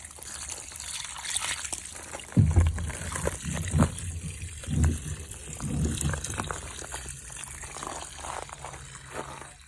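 Water draining out of a Portacool evaporative cooler, a quiet trickle and dribble running for about ten seconds, with a few louder splashy gurgles early on, close by.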